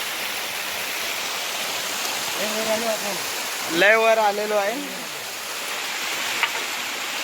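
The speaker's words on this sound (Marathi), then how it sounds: "पाणी बघू शकता जुळजुळ पाणी वाहतंय." A stream in the Konkan countryside flows with a steady broadband rush of running water, heard at night while someone speaks briefly over it.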